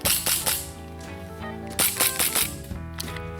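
Several sharp, snappy pops from an ASG CZ P-09 airsoft pistol go off close by, spaced irregularly with brief pauses between shots.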